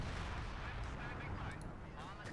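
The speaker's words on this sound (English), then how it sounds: "Airburst shells and regular shells going off like fireworks" Artillery airburst and regular shells explode in Company of Heroes 2, a dense, continuous barrage of booms and crackling blasts, loud and unbroken, with faint game sounds mixed in.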